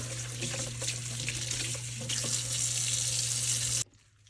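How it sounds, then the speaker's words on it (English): Steady running water from a sink tap rinsing a homemade luffa sponge, a constant close splashing stream that cuts off abruptly near the end. "just rinse it a little bit longer to get any remaining goop"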